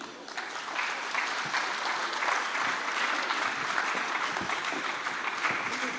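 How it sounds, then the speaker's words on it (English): Sustained applause from a summit audience at a social impact conference in Africa, a dense steady clapping that fills the room and holds at an even level throughout, with no speech over it. "Please, a round of applause."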